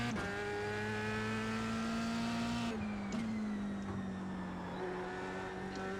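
An F3 race car in a racing video game drones at high revs, its engine pitch holding steady, then dipping around a gear change before climbing again, with tyre noise underneath; loud and continuous, no talk.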